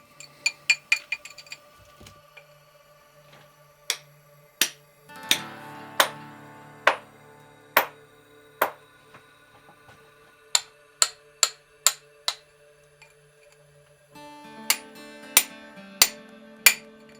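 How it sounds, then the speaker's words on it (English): Metallic clinks ring out as a miner's hammer strikes a chisel against ore-bearing rock, a quick flurry at first, then single blows spaced a second or so apart. "miners still use simple tools like a chisel and hammer to extract ore"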